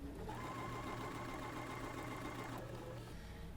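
Sewing machine running steadily as quilt block pieces are stitched together from the block's center outward, a continuous close motor hum with rapid needle rhythm that eases slightly near the end.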